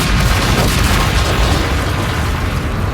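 An explosion in a Family Guy cartoon episode roars as a dense, continuous rumble that stays loud for the whole stretch.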